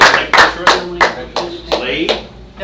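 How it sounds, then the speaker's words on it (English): A small group at a school district board meeting claps in a handful of loose, separate bursts, each sharp onset fading quickly, close by and fairly loud, with a faint voice underneath. "Let's give these guys a round of applause."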